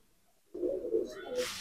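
A pigeon lets out a short, low cooing phrase close by, rising suddenly out of silence and followed by a brief brighter rustle.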